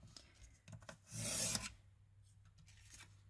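Cardboard being scored for a DIY gift box lid, a short series of faint scraping rubs followed by one louder, longer rasping stroke, close and quiet with no talk.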